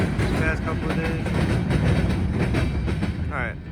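Train locomotives passing through Muncie on a snowy day, a continuous loud rumble and rattle of rail cars close by, with faint horn-like tones near the end.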